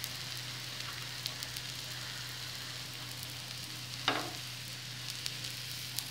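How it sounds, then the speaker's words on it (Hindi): Green chickpea bhabhra cooking slowly on a tawa over a low flame, with a steady, quiet oil sizzle throughout and one brief, sharper crackle partway through. "अब इसे आँच को सिम करके और धीरे धीरे पका लेना है।"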